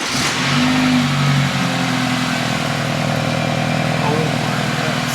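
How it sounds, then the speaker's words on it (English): A BMW F30's engine runs loud and near, stock before a downpipe install, a steady idle with a couple of short revs early on under broadband noise. "Rev it like 2 times?"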